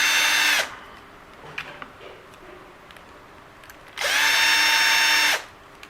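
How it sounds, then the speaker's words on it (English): A power drill backs screws out of an Eachine EAT11 drone, whirring in two loud close bursts with a quiet pause between and a few faint clicks of handling. "let's get these screws out."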